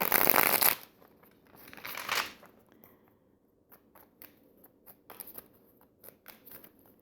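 A deck of tarot cards is shuffled up close: a loud riffling burst, a second shorter one, then soft scattered taps and card handling.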